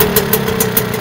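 A boat engine idles in neutral, close and loud, with an even mechanical rumble and a steady repeating tick.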